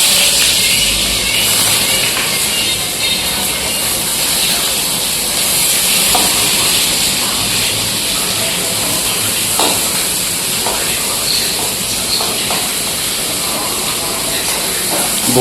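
Onions hit hot oil in a very large karahi, setting off a loud, steady sizzling hiss with a steamy texture that stays strong and constant for the whole stretch, close by.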